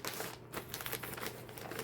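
A package holding yarn is ripped open, giving a close, continuous crinkling and tearing of plastic wrapping for about two seconds, with no voices.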